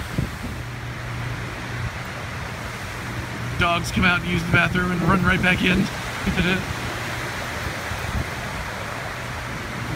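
Hurricane Matthew's wind and rain roar steadily outdoors as a broad, loud wash of noise throughout, with a person talking over it in the middle.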